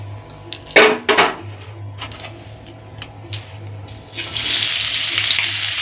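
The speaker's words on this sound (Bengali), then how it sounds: "এবার আমি এই তেলেই আমি পেঁয়াজ কুচিগুলো দিয়ে ভেজে নেব" Chopped onions go into the oil left from frying potatoes for a meat kosha curry. A few utensil clanks come first, then a loud, steady frying hiss builds and carries on to the end.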